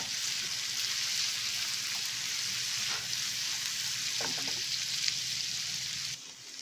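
Onions frying in oil with curry leaves and green chillies for a prawn fry, a steady loud close sizzle like rain throughout, with a few faint stirring taps before it cuts off near the end.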